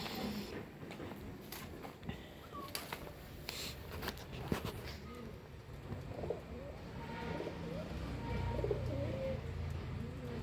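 Pigeons in a breeding loft coo softly amid a busy background of rustling, wing flaps and scattered chirps, with low murmuring voices faintly underneath throughout.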